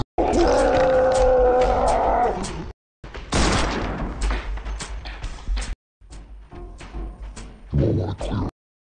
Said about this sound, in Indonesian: si Jack ini ditembaki dengan shotgun